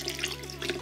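Liquid is poured into a puffy paint mixture, making a close, continuous trickle and splash that lasts under a second, with no voices.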